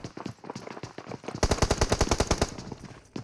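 Rapid bursts of gunfire from a squad fight in a mobile battle-royale shooter played on an iPhone 13 Pro, starting with scattered shots and then a loud, steady automatic volley of about a dozen evenly spaced cracks, with no talk.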